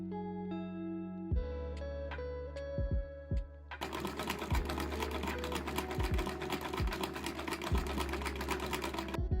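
A sewing machine topstitches around a dress placket, starting with a few slow, separate needle thumps. It then speeds into continuous close, rhythmic stitching clatter with a low mechanical hum.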